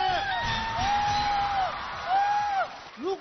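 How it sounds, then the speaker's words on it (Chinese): A studio audience at a Chinese Spring Festival variety show whoops and cheers in loud swelling bursts, with a crowd roar rising and falling and high shouted calls standing out above it. "现场的朋友们同意我们最牛的掌声欢呼声在哪里？"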